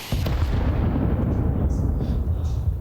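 A grenade blast in a Counter-Strike match lands with a sharp onset, then a loud, heavy rumble that rolls on and slowly fades across a few seconds.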